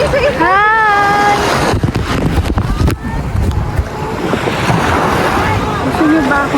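Sea waves wash and slosh around a boat while island hopping, a loud continuous rush mixed with heavy wind buffeting, as a person talks over it.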